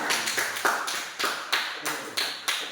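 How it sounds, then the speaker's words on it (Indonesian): A classroom of students gives a short round of hand claps after a lesson on Hajj and Umrah, the claps coming in uneven bursts that rise and fade several times, moderately near and fairly quiet. "Tepuk tangan untuk kita"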